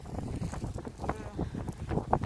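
Strong wind gusts across a hillside where vegetables are being picked, a steady blustery rush buffeting the microphone throughout with no talking.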